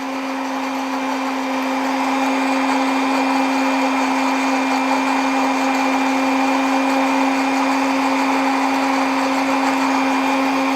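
Electric blender running steadily while blending garlic with grapes and honey, a loud constant motor whine with a high steady tone, unbroken for about eleven seconds with no talking.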